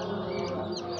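Chicken clucking, a short run of soft clucks close by with steady background noise and no speech.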